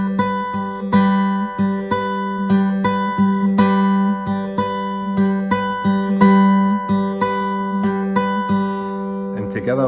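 Acoustic guitar fingerpicking a song's pattern, bright plucked notes over a ringing open string in a smooth, even rhythm, close and clear with no voices.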